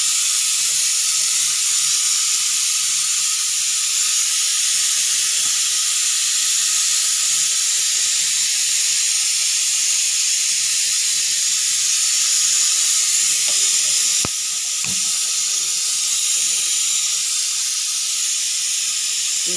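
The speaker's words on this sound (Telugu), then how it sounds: "కరివేపాకు, ఎండుమిర్చి, చిన్నులపాయ, పోపు దినుసులు మొత్తం వేసి ఇంగువ వేసి తాలింపు పెట్టానండి" Red chillies, crushed shallots and curry leaves sizzle in hot oil for tempering with a loud, continuous close-up hiss that stays steady throughout, broken only by a brief clink near the end.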